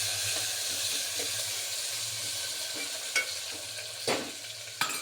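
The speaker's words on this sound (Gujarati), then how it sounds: "હવે એને હલાવી લઈશું આપણે." Chopped brinjal being stirred into a hot tempering of spiced oil with garlic and asafoetida, a steady close sizzle with scraping stir strokes and a few sharper clatters, no talk.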